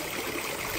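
Fresh water from Mount Fuji runs in a stream, a continuous quiet burbling rush that holds even and unbroken, heard faintly up close.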